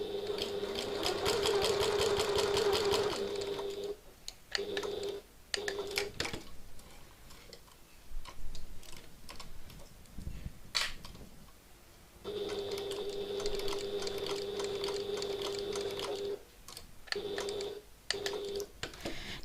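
Sewing machine with a walking foot stitching a tote bag strap, running in steady rapid bursts with pauses between them, fairly quiet and close, alongside light clicks and handling noise.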